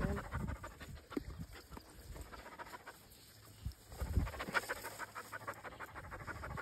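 A keen young dog pants hard and fast while digging outdoors, a close, rhythmic run of breathy huffs that rises and falls with its effort, with no talking.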